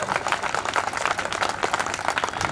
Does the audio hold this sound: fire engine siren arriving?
no